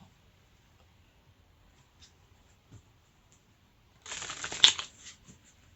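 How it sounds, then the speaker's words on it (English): A deck of cards is riffle-shuffled once in a quiet room, a soft close burst of rapid flutter lasting about a second after a few faint taps. "let's shuffle and see what God wants to tell you"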